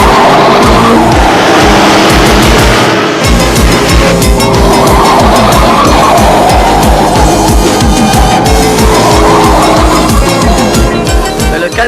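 A truck roars and accelerates during a 1984 animated car chase, with loud, continuous engine drone, rising revs and tire squeals under a dense, busy soundtrack.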